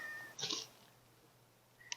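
Outdoor cats meowing, with one loud, drawn-out meow close by followed after a pause by a short, fainter second call, against quiet background hiss.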